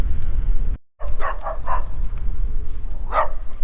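A dog close by gives a few sharp barks and yips, a cluster of quick barks followed by a pause and one more, loud over outdoor background noise.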